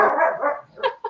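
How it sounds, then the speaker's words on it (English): Pet dogs playing in a backyard let out a short burst of barking, a loud rough bark followed by a couple of quick yips, close by and without other sounds. "Sorry if y'all can hear my dogs barking."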